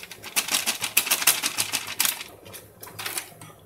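White sauce pasta is stirred in an oiled pan, a spoon clacking and scraping in quick, uneven bursts that ease off toward the end.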